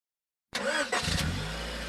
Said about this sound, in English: Hey, check out my new car.